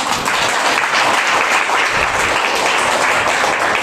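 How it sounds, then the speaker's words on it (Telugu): A church congregation clapping loudly during Sunday worship, dense sustained applause filling the room, near and steady throughout. "చప్పట్లు కొడతాం గట్టిగా."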